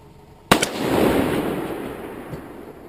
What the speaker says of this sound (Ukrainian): я зробив свій перший постріл із невеликим сюрпризом